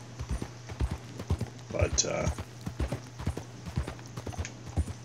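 Horse hooves in the video game Red Dead Redemption 2 clip-clop in a steady, walking rhythm close by, over a low hum, with a brief spoken word partway through.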